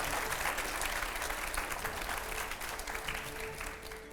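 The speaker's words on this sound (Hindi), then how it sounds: "बट ये स्पिरिट के लिए एक बार ज़रा ज़ोरदार तालियां हो जाए" Hearty applause from an audience at a political interview event, many hands clapping in a dense, continuous burst that holds steady and then eases off slightly toward the end.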